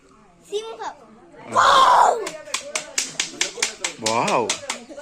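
A voices one short, harsh imitation of a lion's roar amid chatter and a quick run of sharp clapping-like taps, followed by further excited vocalising.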